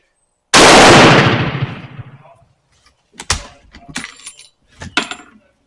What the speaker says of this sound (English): All right, that's 5 shots.